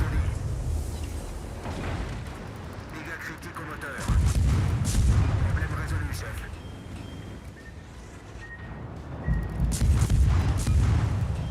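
Warship turret guns fire in the naval battle game World of Warships, sending three heavy, booming rumbles several seconds apart. They sit low and muffled under steady background noise, with no clear speech.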